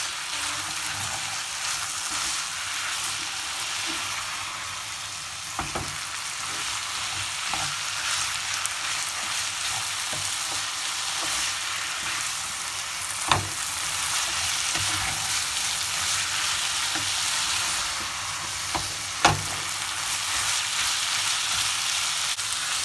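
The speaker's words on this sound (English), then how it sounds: "I'm just going to mix it for a few minutes." Food stirred in a pan over a raised flame, a steady broadband sizzle with occasional scraping clicks of the utensil against the pan, close and continuous with no talking.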